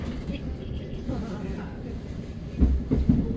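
A Southern passenger train runs on rails between London Bridge and Caterham via Tulse Hill, with a steady low rumble and clicking wheel noise heard from on board, then a few louder clacks near the end.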